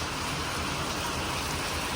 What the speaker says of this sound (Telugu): మాకు వర్షం వస్తుంది.